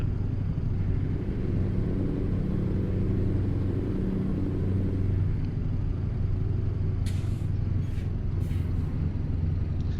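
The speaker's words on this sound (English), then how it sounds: "just hit the brakes because I'm lagging" Truck in Euro Truck Simulator 2 rumbling along with a steady low engine drone, then a few short hissing bursts of its air brakes near the end.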